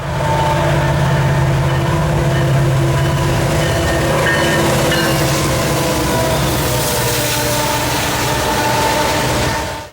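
An eastbound NS freight train led by a BNSF locomotive rolls past close by, giving a loud, steady rumble of engine and wagons with a sustained horn-like drone throughout.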